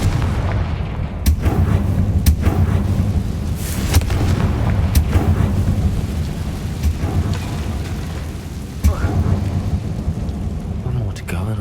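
A fiery blast spell cast in the wizarding video game Hogwarts Legacy, heard as a series of sharp booming bursts and crackles over a dense rumbling game soundscape, loud and close throughout.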